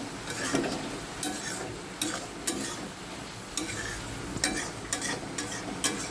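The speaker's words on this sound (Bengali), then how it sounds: "এই আঁচটা জোর করে এটা একটু নেড়ে নেব" A pot of khichuri is stirred over high heat, giving repeated scraping strokes of a spoon against the pot with soft sizzling underneath, close and steady with no talk.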